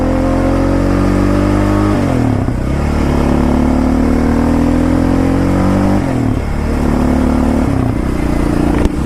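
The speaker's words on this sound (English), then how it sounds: "So let's try shifting from second gear to third gear." Loud, close quad engine revving hard, with pitch climbing in second gear, dropping at the shift, then climbing again in third, and a second drop near the end as the rider shifts once more.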